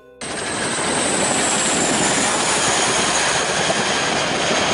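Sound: Boeing CH-47 Chinook helicopter

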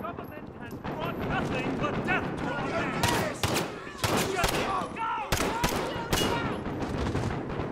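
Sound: gunfire in video game Modern Warfare 2019

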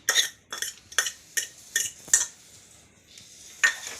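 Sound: mashing boiled potatoes with green chillies

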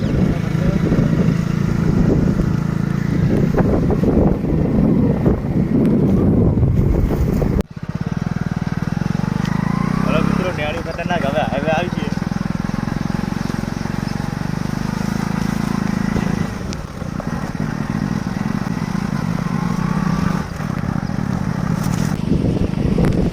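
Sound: motorcycle riding along a farm road

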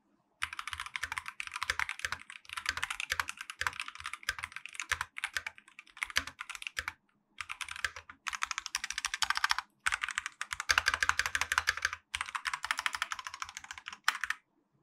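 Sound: typing on mechanical keyboard with tape mod

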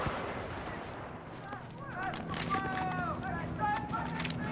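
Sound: gunshots in the video game Battlefield 4

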